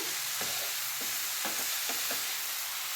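Grated beetroot stirred in a pan over a medium flame for palya: soft scraping strokes about every half second over a steady sizzle, close and with no voices.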